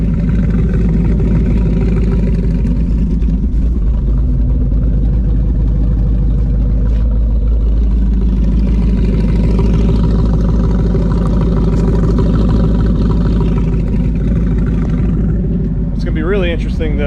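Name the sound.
car engine exhaust with Mac mufflers idling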